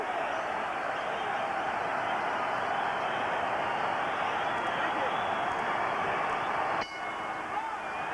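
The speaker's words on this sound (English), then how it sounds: "The sea of humanity here at the Alamodome erupting like a volcano." A huge crowd at the Alamodome in San Antonio roars and applauds at a Canelo vs Trout boxing unification fight, a dense, steady wall of cheering that drops off sharply near the end.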